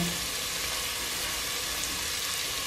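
Onion frying in a pan, a steady close sizzle with dense crackling that holds evenly throughout.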